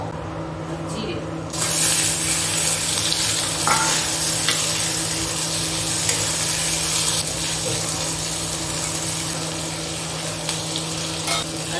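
Dried red chillies, bay leaves and cumin sizzle in hot oil, a steady close hiss that bursts in after a quiet start and keeps crackling with faint stirring throughout.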